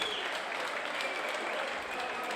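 Crowd applause for two fighters at a CRC 5 combat-sports event, a steady mass of clapping from the arena audience heard as a constant wash with faint ringing tones over it.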